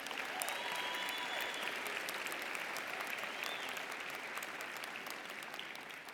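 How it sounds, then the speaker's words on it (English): Graduation crowd at a college of social work spring commencement ceremony applauding the commencement speaker, a sustained wash of clapping heard from a distance in a large space, steady and fairly faint with occasional sharper claps. "Another round of applause for our commencement speaker."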